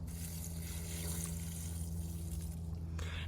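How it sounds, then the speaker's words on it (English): Standing water poured out of a container of soaking ranunculus corms, a steady splashing trickle over a low hum, ending in a brief louder gush. "Of course, first, we must dump out the existing water."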